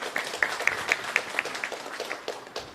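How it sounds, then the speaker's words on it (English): Audience applause at a conference live stream, scattered and fairly sparse clapping with distinct individual claps in an uneven rhythm, moderately close, fading toward the end. "Let's give them a round of applause."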